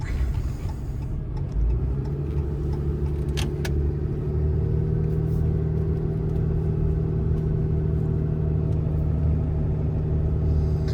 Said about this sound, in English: Try to give it a little throttle